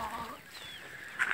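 Chickens and hens cluck softly in a yard, a few brief calls and chirps close by over quiet ambience, with a sharper squawk at the end.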